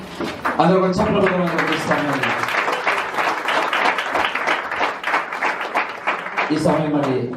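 A church congregation in Kuwait breaks into sustained clapping during a Friday service, a dense burst of applause between spoken lines from a voice at the start and end.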